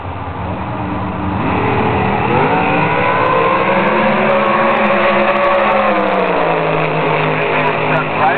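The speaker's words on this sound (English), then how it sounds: "So Mike Weaver, Alan Constantine, couple of nitrous injected big block monsters." Nitrous-injected big-block drag racing cars at an NHRA professional event, their engines roaring loud and continuous with rising, sweeping revs that build after the first second, while a commentator talks over the noise.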